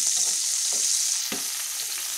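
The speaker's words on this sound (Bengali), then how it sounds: "হালকা করে বেগুনগুলো ভাজা করে নিয়েছি" Eggplant sizzles and crackles steadily in hot oil, a bright continuous frying hiss with a few soft clicks of a utensil.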